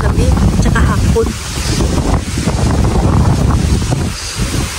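Strong, gusty wind roars across the microphone outdoors, loud and continuous, with a person talking underneath it.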